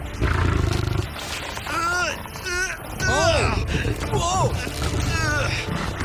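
A lion roars in deep, groaning bursts during a tug-of-war against a strongman, repeated throughout at close range, with voices talking and shouting over it.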